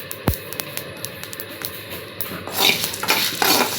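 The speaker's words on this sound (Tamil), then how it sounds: "இந்த அரிசி நல்லா பொரிஞ்சு சத்தம் கேட்குங்க, அது வரையிலும் வறுத்தெடுத்துக்கலாம்." Rice dry-roasts in a heavy pan, a spoon scraping and clinking against the metal while faint crackles and pops rise over a low sizzle, getting busier near the end.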